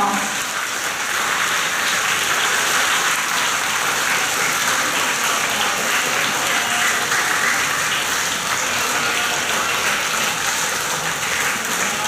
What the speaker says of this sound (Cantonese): 請大家咧試過俾啲掌聲呢6位攞到學業成績獎嘅同學